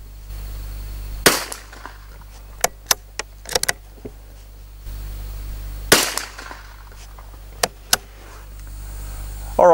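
Rifle shots fired while testing a Schmidt & Bender Zenith 1.5-6x42mm scope, heard as two loud sharp cracks several seconds apart, separated by fainter clicks and handling knocks, with a low steady background hum.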